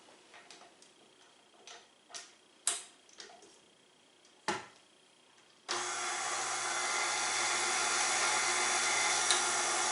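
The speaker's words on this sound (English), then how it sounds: "We're going to add those into the mixer first. Then we're going to mix those a little." A stand mixer starts up partway through mixing vital wheat gluten and almond flour for bread, a loud steady whir after a few scattered clicks and knocks.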